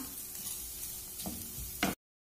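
Fried vermicelli and carrots sizzle softly in a pan as they are stirred, with a couple of scraping clicks near the end before the sound cuts off.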